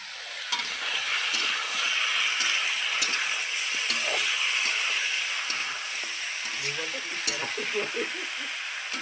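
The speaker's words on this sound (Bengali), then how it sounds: "এই যে মাংসগুলো আগে ভাজা ভাজা হবে, তারপরে মশলাগুলো যে রাখা আছে দিয়ে দিব।" Chicken pieces frying with onions and potatoes in a pan for chicken kosha: a steady, close hissing sizzle with occasional sharp spatula clinks and stirring scrapes, and faint voices in the background.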